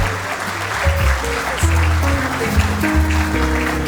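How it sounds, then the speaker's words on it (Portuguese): Applause welcoming a professor onstage at the opening ceremony of a citrus industry expo, sustained clapping alongside a low, steady background tone. "Vamos recebê-lo com uma salva de palmas"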